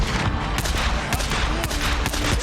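Shotgun blasts in the video game Days Gone: loud, rapid repeated booms around 0.5 seconds apart over a dense, noisy combat background, with no voices.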